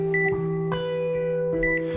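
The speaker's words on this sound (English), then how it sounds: "the rhythmic beat emanating from my mother's heart monitor. I remember it clearly now. It beeped like a metronome." Heart monitor beeps sound in a song: two short high double-beeps about a second and a half apart over steady droning musical tones.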